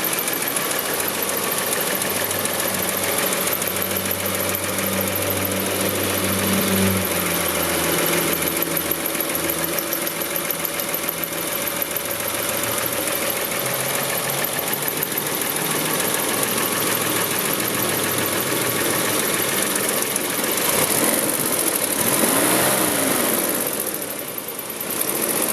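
A 1960 Ford Thunderbird engine idles steadily for a long stretch, a close, even V8 rumble with a faint ticking and a high whine running through it, alone without talk.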